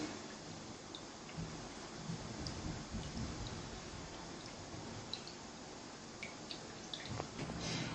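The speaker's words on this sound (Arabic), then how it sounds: "اسيبها تتصفى كويس قوي" Water drips steadily from freshly washed leafy greens set to drain in a home kitchen, a soft continuous patter with scattered faint drops, fairly quiet and close with no talking.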